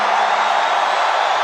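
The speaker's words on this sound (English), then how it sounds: "This is a big crowd." A big crowd at a Trump rally in New York cheers and roars in a steady, dense wash of voices, loud and continuous throughout with no single voice standing out.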